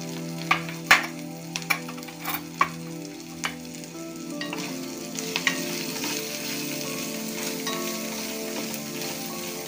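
Green chillies frying in a pan with cumin powder and salt over medium heat for a green chilli sauce, a close, steady sizzle with sharp spatula clacks early on, then continuous frying noise.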